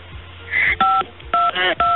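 DTMF dialing tones sound on a radio call-in phone line: several short, loud key beeps, each a clear steady dual tone, with a narrow telephone-band quality and faint line noise between them.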